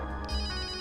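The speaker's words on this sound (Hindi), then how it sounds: "फोन तो इस बैग में से बज रहा है।" A mobile phone ringtone plays from inside a bag, a short, steady tonal melody with layered harmonic notes, heard close and alone for under a second.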